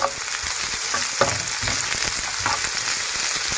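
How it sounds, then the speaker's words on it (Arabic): Onions and green peppers with olives fry in oil in a pan for a layered savory pastry filling, giving a steady close sizzle with scattered scraping stir strokes throughout. "مش هستنى لما البصل ياخد لون، يعني مجرد ما يبدا يدبل سنه هنزل بالفلفل وادي تقليبه تاني"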